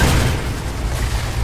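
A deployable blowing up in Section 8: Prejudice, a deep, rumbling boom with a heavy low end that fills the moment, loud and close.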